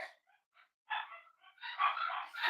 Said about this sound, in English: that's just our dogs playing